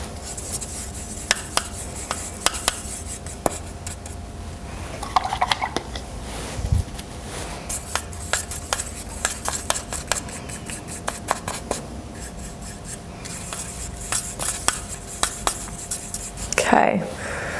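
Paint being mixed on a palette during a colour-mixing workshop gives soft scraping and dabbing strokes with sharp little taps, close and intermittent, while a person talks over it.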